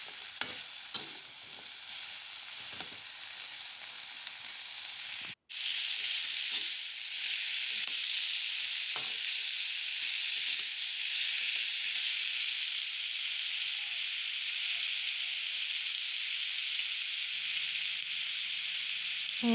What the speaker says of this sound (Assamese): আলুবিলাক দি অলপ দেৰি ভাজি ল'ম।